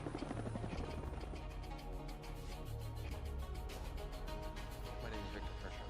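A helicopter's rotor chops loudly and steadily throughout, a rapid rhythmic thumping with a whining engine drone, close by and continuous with no talk.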